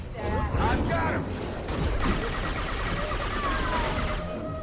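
Rapid, dense gunfire from a Locust gun mixed with heavy shotgun blasts in a Mass Effect 2 firefight, continuous and loud throughout with battle noise layered on top.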